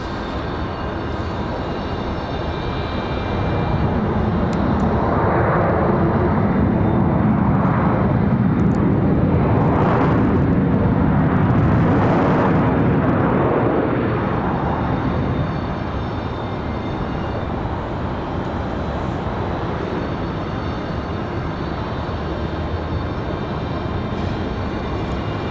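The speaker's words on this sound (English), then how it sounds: "Nice smooth landing for the 737." A Boeing 737 lands at Raleigh-Durham airport, a broad engine rumble and rushing roar swelling to a peak midway and then easing off into a steady lower drone, with no talk.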